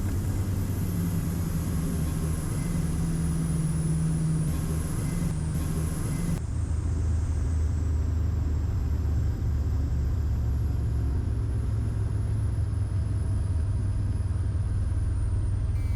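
Twin engines of a Cessna 340 drone in a loud, continuous cockpit rumble, with a low tone that shifts and wavers partway through as the RPMs run out of sync.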